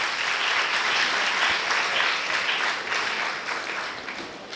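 An audience applauding Bhumi Patel's devotional song composition, a full, sustained wash of clapping from many hands that holds steady and then slowly tapers off.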